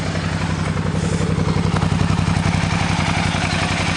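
The 2007 Suzuki DL650 V-Strom motorcycle's V-twin engine runs close up at a steady idle, giving off a loud, even, rapid pulsing chug with a clattering edge and no talk over it.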